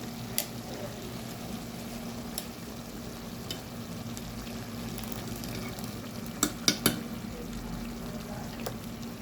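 Ground masala with curry leaves fries in a pan, giving a steady low sizzle with a few sharp clinks of a spoon stirring against the metal, close and alone with no voices.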